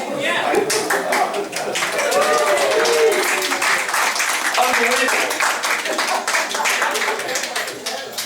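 A room of spook-show attendees claps together at a live horror event, bursts of fairly close, rhythmic hand claps running throughout while someone speaks over them.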